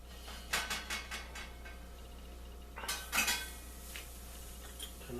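Cutlery clinks and scrapes against plates while a Mexican pizza is plated, a quick cluster of sharp clatters, a pause, then another burst of clinks, close and fairly loud with no voices.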